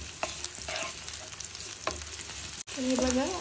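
Thinly sliced onion fries in oil in a kadai with a continuous close sizzle, broken by stirring scrapes and a brief cut near the end.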